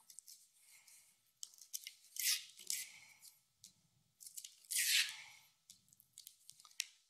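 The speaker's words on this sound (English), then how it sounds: "And peel away that paper backing." Paper backing is peeled off an adhesive stabilizer inside an embroidery hoop while a quilted notebook cover is made. The peeling comes as close crisp rips and crackles in two longer bursts, with small taps and rustles in between.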